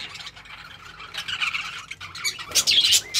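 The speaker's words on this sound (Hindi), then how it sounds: "यहाँ बनाया हुआ है ये चिड़ियों का जाल, ये देखिए यहाँ बहुत प्यारी प्यारी ये बर्ड्स हैं नीचे" Small birds chirping and squawking inside a backyard bird net enclosure, a steady mix of thin tweets and calls that grows louder and busier toward the end, with no talking.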